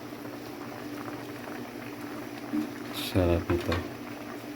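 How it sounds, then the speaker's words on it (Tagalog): A soft bubbling simmer of chicken curry with kangkong boiling in a pot continues steadily in the background while a person speaks briefly near the end. "Ito na, kumukulo na."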